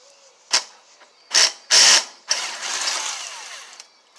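A ratchet loosening the engine head bolts on an FJ180V, several short loud clicking bursts close up followed by a longer rattling stretch.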